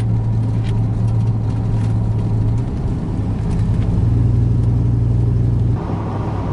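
A Chevy Silverado pickup engine running at idle, a truck with fault codes and a flashing brake light; a close, steady low rumble with a slight rise in revs midway, then settling lower near the end.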